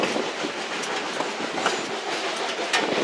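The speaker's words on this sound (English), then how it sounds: "it's an old steam train we're riding" An old steam train on the Mount Rainier Scenic Railroad rolls steadily along its tracks, giving a continuous close rumble with clickety-clack wheel rhythm and no talk over it.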